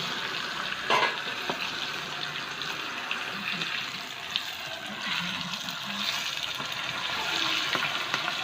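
Quail pieces frying in a pan for a Tamil kaadai fry, a continuous close hissing sizzle with soft bubbling and a few light clinks of a utensil, with no one talking.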